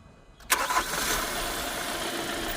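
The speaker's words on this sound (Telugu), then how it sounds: "ఒకసారి ఇంజిన్ కూడా స్టార్ట్ చేసి చూపిస్తాను సౌండ్ ఎలా ఉంది ఏంటనేది కూడా చూపిద్దాం" A 2020 Hyundai Creta SX(O) diesel engine cranks briefly and catches, then settles into a steady, rumbling idle close by.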